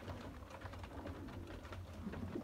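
Golden red-eyed dubwala pigeons kept by a breeder coo softly and repeatedly, a faint low rolling murmur of several birds at a steady level without any speech.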